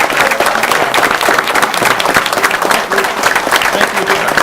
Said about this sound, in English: Please give a round of applause for Rob.